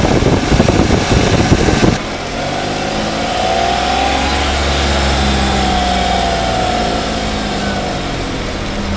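A Peugeot 107, a light small city car, drives along with a steady engine drone and road rumble, louder and rougher in the first two seconds before settling into a smoother, continuous hum.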